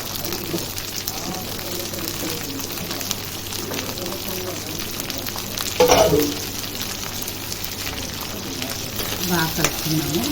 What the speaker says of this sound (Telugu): నెయ్యిలోనే వేస్తున్నాను. కొంచెం బాగా వేగాలి.